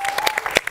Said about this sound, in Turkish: koca bir alkış rica ediyorum sizden